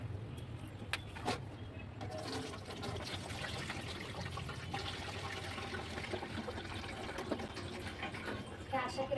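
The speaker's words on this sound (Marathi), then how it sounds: "आता हे सगळं मी ना या डब्यात पुन्हा एकदा ना गाळून घेणार आहे एक मस्त सुती कपड्याने" Wheat extract liquid strained through a cotton cloth into a container while making kurdai at home, a continuous trickling, splashing flow up close with a faint voice in the background.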